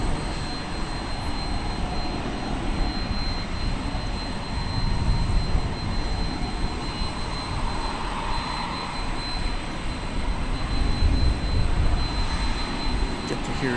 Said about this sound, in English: Get to hear its engine whine.